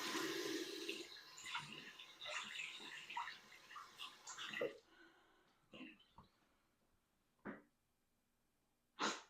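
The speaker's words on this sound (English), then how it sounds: "let me wash all this stuff off my hands real quick" Tap water runs steadily into a sink while hands are washed, a near, bright splashing hiss that cuts off partway through, followed by a few short wet clicks and thumps as someone talks over it.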